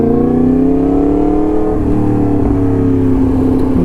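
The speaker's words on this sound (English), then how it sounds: "Another really amazing thing about this bike is just how quickly it gets up to speed." A 2022 Yamaha MT-10 SP motorcycle accelerating hard, its engine note climbing steadily in a loud, close, continuous drone with a brief shift partway through; no talking.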